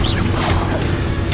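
A Bombarda spell blast in the Hogwarts Legacy video game: a dense, loud burst of crashing, crackling magical impact that fills the short moment, with no talk over it.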